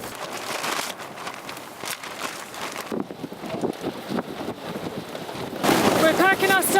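Strong wind buffets a high-altitude tent camp on Cho Oyu, a steady roaring rush with gusting swells that grow louder toward the end, alongside flapping and rustling close by.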